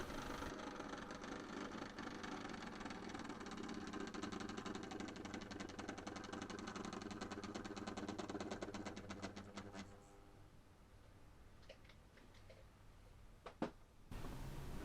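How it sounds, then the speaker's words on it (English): Class 37 diesel locomotive 37099 idling at a station platform, a steady knocking engine throb that eases to a quieter, lower idle partway through, with a few faint clanks and no talking. "(37099) waits in platform 2 for the returning passenger service hauled by Western Pathfinder, which comes to a gentle stand in platform 3."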